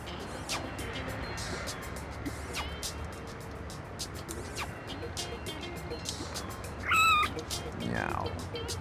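A cartoonish cat meows in the video game No More Heroes, one short high-pitched call near the middle over a steady hum of game ambience and background noise.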